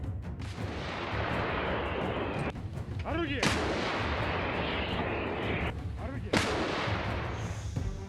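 Russian rocket launchers and tanks firing across open terrain, loud booming blasts and roaring launch noise that repeat over several seconds, heavy and continuous.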